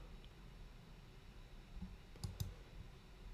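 A couple of sharp, close computer mouse clicks land near the end, quiet and isolated against a faint room hiss.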